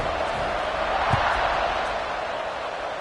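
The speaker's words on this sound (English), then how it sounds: "this crowd is buzzing after that last score" A football stadium crowd buzzes with a dense, steady roar of voices after a score, constant and loud throughout with faint thuds beneath.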